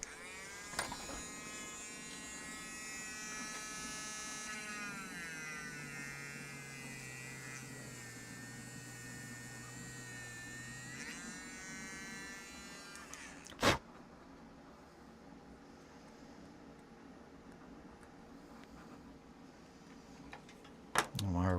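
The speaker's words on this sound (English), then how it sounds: "Why are we dremeling it? Because we're gonna put a cable in that for sure." A Dremel rotary tool runs at a tabletop hobby session with a steady, fairly loud high-pitched buzzing whine that rises and dips in pitch. It cuts off around the midpoint, leaving a quieter background with a sharp knock.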